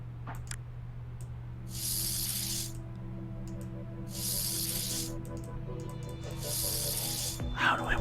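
A fingerprint chemical spray hisses in a CSI video game, three separate bursts about a second long each, evenly spaced over a quiet electronic hum, with a faint click near the end.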